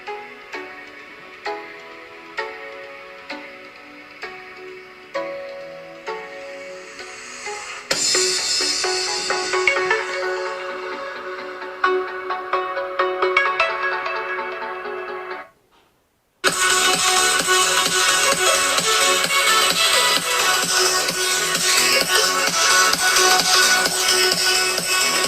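An NCS electronic track plays at full volume through the four speakers of a Huawei MediaPad M5 Lite tablet, opening with sparse plucked notes, building into a dense loud mix, a brief silent gap, then a full driving drop.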